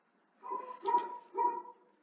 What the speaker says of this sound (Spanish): Disculpen a mi perrito